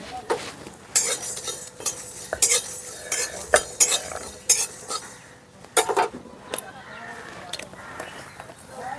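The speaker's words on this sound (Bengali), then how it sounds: "সামান্য একটু ভাজা ভাজা করে নেব" Whole spices, dried red chilli, coriander, cumin, fennel, fenugreek and mustard seed, frying in a hot kadai, with a spoon repeatedly scraping and knocking the pan in sharp irregular clatters over a low sizzle.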